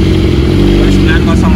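A BMW S1000RR motorcycle engine idles loudly up close while warming up, a deep rumbling throb with a voice speaking over it.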